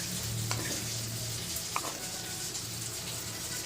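Custard powder stirred into boiling vermicelli milk for a semiya falooda, a soft, steady bubbling hiss broken by a couple of light spoon taps against the pot.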